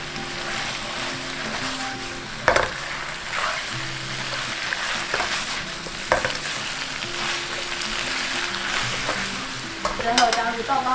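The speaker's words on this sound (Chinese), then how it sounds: "再放入煎好的板条，拌炒均匀" Pan-fried flat rice noodles tossed with Chinese broccoli in a hot wok, a continuous loud sizzle broken by sharp scraping clacks of the spatula against the metal as the vegetarian Hong Kong-style noodles are stirred.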